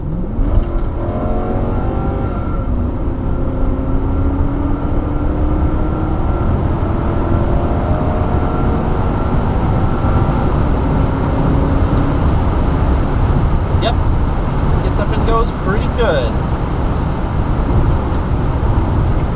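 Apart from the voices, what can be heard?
1996 Lexus LS400 accelerating onto the highway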